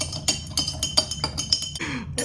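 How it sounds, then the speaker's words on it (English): A metal spoon stirs a solute into a glass of water, repeatedly clinking against the glass in a steady, quick rhythm, close and bright, with a faint swish of water between strikes and no talking. "I've been stirring spoonful number 2 for a while now"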